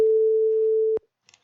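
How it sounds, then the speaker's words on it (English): A steady 440 Hz sine-wave tone generated by synthesizer code holds constant and loud for about a second, then cuts off abruptly with a small click, followed by near silence and faint soft ticks. "that should be a sine wave with a frequency of 440"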